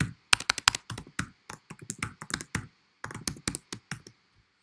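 Someone types on a computer keyboard nearby, rapid bursts of crisp key clicks in irregular runs with brief pauses, the tapping slowing and stopping near the end.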